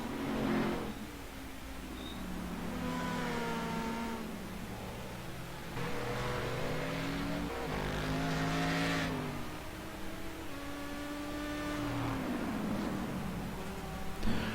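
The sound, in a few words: race cars driving into a turn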